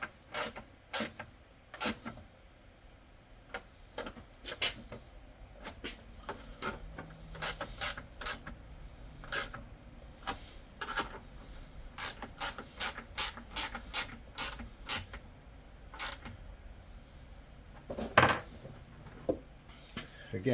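Bolts being tightened on the scraper bar of a Greenworks battery snowblower with a wrench: sharp, close ratcheting clicks in irregular bursts, some quick runs and isolated ticks, with a faint metallic clank near the end.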